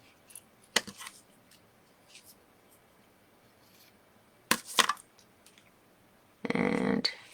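Scissors trimming the frayed end of a tag cord, giving a few quick close snips with short pauses between them and a longer rustle of handling at the end.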